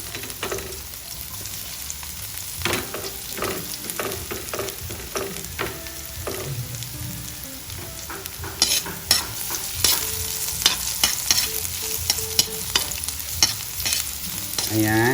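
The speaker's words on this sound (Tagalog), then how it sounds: "haluin muna natin" Garlic stirred in a hot pan for native chicken ginataan, steady frying sizzle with repeated scraping strokes of the spoon that grow busier and louder toward the end, no voices.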